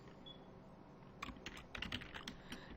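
Quiet keystrokes on a computer keyboard while code is written, starting after a second of near silence and continuing as an irregular run of soft clicks, close but faint.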